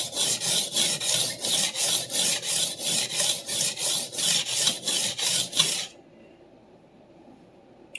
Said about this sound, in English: Diamond plate has a very different kind of sound than a whetstone.